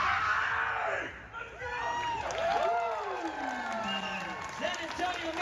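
Convention crowd at a San Antonio Comic-Con roaring with cheers, whoops and screams alongside applause, a loud, dense, sustained wash of many voices with a speaker's amplified voice carrying over it.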